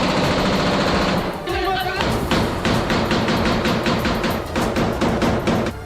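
Rapid automatic gunfire from Israeli soldiers in a released video of an operation near a tunnel under Jabalia camp, steady repeating shot bursts throughout, with a voice talking over it.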